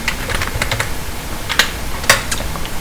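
Code typed into Visual Studio Code on a computer keyboard, a rapid uneven patter of close key clicks over a steady hum, with a couple of louder strikes.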